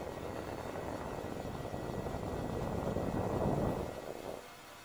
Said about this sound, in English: Dropship up there.